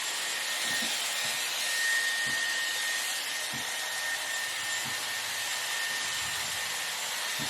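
A Dyson Airwrap styler blows a steady, loud whoosh of air while drying hair roots, with faint low bumps as the brush moves; there is no talk.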